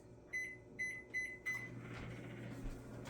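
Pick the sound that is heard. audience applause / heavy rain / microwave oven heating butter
microwave oven heating butter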